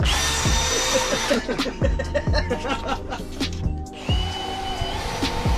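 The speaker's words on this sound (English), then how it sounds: "Drill holes there." A power drill whirs in several short bursts, stopping and starting close by, with clicks and a bit of laughter in between.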